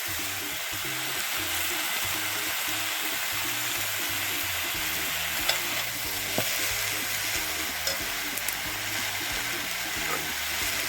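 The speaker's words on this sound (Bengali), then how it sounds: "এবার দেবে বাঁধাকপি" Cabbage being stirred into khichuri in a pot on the stove, giving a steady sizzling, frying hiss with occasional scrape and clink sounds, held close and continuous throughout.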